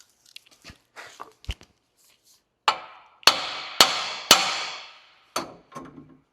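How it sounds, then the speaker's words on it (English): Several sharp metallic hammer strikes on a tie rod end of a Honda Ridgeline, three loud blows close together after a few lighter taps, each with a short ringing decay. "we're just going to use the trusty old hammer here"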